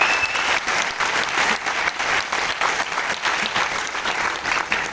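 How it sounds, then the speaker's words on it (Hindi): Loud, sustained applause from a seated audience fills a hall, welcoming first-time attendees at a business meeting in Kalyan; dense steady clapping with no pauses throughout. "सबसे पहले आए हुए सभी नए लोग जितने भी पहली बार जो ये हॉल में आके बैठे उनके लिए एक बार जोरदार ताली तो बनती है"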